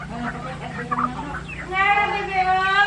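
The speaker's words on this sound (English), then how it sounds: "So Nicole will feed the chickens" Native chickens in a rural backyard cluck and call close by as they are fed rice, scattered clucks giving way to a louder drawn-out squawking call near the end.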